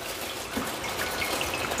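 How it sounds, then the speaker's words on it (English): Water runs from a kitchen tap into a sink while callaloo and ackee are being prepared for cooking in coconut milk. A steady, close gush continues unbroken with no talk over it. "I'm gonna get some water in"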